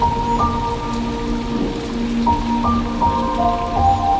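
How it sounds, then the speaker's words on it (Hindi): Heavy rain mixed with hail pours down steadily on crop fields, a dense continuous hiss with scattered drips, alongside tonal background music in a cartoon scene. "कुछ ही देर में बारिश के साथ साथ ओले भी गिरने लगते हैं।"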